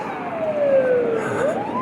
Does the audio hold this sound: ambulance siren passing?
yes